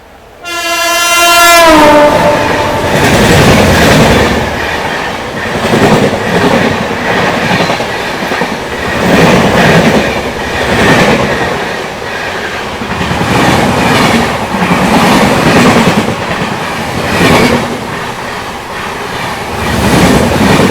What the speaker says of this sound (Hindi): ये एक और ट्रेन का ओवरटेक हो गया और सामने देखिए एक ट्रेन जो आ रही है